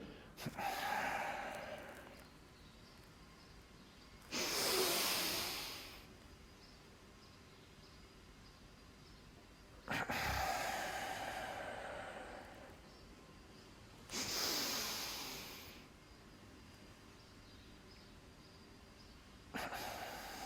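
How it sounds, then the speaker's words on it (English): Kriya Yoga double breathing with tension: four sharp, forceful breath bursts spaced several seconds apart, each a double in-and-out rush of air close to the microphone, with quiet pauses between. "35 is number 1, the original one, double breathing with tension."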